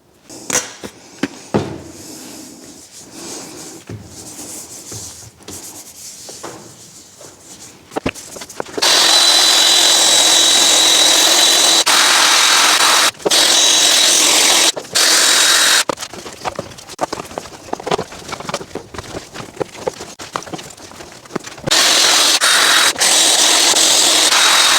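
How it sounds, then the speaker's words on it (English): A machine polisher buffing cutting compound into the side panels of a salvage-rebuilt Mini Cooper S Roadster, blending toward a new bumper; a close, loud, steady whir runs in long stretches broken by brief stops, after a quieter stretch of handling at the start. "I'll just buff out these little marks here and just buff along the sides here where it's going to blend into the new bumper there."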